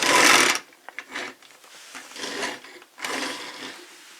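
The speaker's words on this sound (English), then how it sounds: "because the wheels are actually textured, it makes kind of a rumbling sound when you roll it" Textured plastic wheels of a Bison King toy robot rumbling as it rolls: three short gritty rolling bursts separated by pauses, close and fairly quiet.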